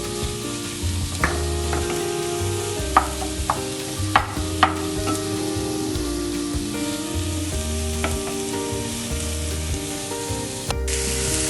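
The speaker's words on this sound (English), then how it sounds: "To this, I'm going to add 2 cups of chopped button mushrooms" Sliced button mushrooms sizzle steadily in a hot pan, with a spatula stirring and scraping them in a few distinct clicks and taps over the continuous frying hiss, with no voices.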